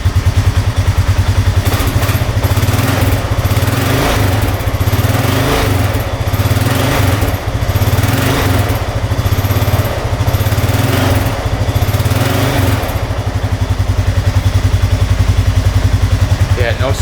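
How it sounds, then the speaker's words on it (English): An ATV engine idles steadily while warming up, a loud, continuous low mechanical drone with a fast, even throb and some light clatter, running throughout with a few voices talking over it. "Let's let this thing warm up for a little bit."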